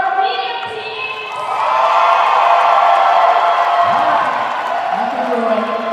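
Crowd in a gym at a high school state cheerleading finals roars and cheers for the medium-size teams, a broad swelling wash of voices and whoops that rises after the first second and holds loud, with an announcer's voice over it.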